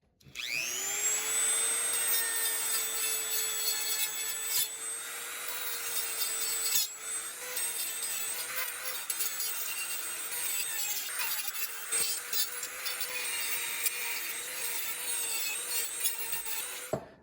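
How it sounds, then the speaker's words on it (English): A continuous high-pitched whine of a power grinder biting into metal, steady and loud for many seconds with brief dips in pitch. "I'm just going to grind the head of this until there's very little of it left"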